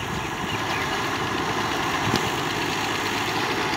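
A Fiat 640 tractor engine idles steadily, a continuous low mechanical rumble with faint knocking, close by and unchanging throughout.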